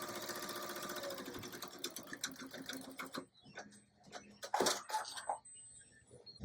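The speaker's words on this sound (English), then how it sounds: "So now what we're doing is we're doing the tack down stitch and tacking down that glitter HTV into place." Embroidery machine stitching a tack-down stitch over glitter HTV appliqué on a shirt, a fast rapid rattle for about three seconds, then stopping into scattered clicks and handling noises.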